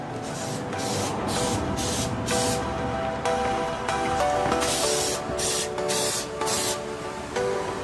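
Spray paint hisses onto a flat object and an ashtray in repeated short bursts, each blast laying a thick coat with brief pauses between, close and fairly loud.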